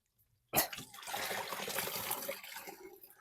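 Water gushes and splashes as a spin dryer spins dyed yarn skeins, starting with a sudden burst and then settling into a steady rushing pour, close and fairly quiet.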